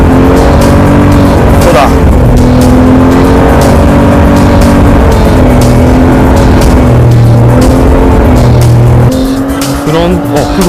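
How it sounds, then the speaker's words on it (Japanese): A heavyweight mid-engine sports car driving hard on a race track, its loud engine droning and shifting pitch throughout with tyre noise, while someone speaks briefly over the roar. "How hard is it to control this heavyweight sports car?"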